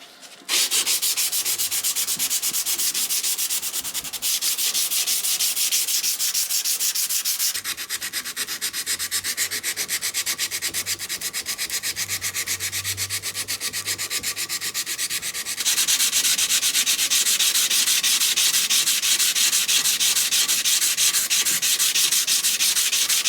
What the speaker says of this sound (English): I will be hand sanding the flats just a little bit